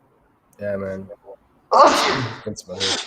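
A single sharp, loud sneeze bursts out between stretches of casual conversation, with someone talking just before it and again right after.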